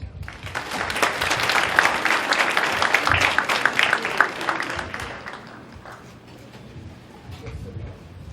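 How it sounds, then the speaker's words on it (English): An audience at a charity fashion show bursts into dense, lively applause and cheering for a presenter, loud for about five seconds before thinning into scattered claps and room murmur. "Give him a round of applause."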